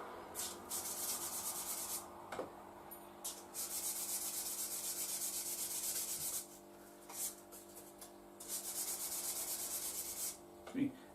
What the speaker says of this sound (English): every single rod going in there was given a good rub down.